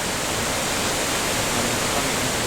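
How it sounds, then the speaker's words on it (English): A waterfall in an Unreal Engine game environment pours as a steady broadband rush, loud and even from start to finish with no pauses or voices. "So you can hear the waterfall"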